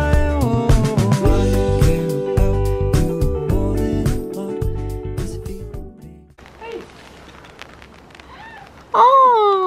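A cat meows several times at a closed honesty shop in a Swiss alpine village near Lauterbrunnen, short rising-falling calls heard close after louder talk and clatter, with one loud meow at the end.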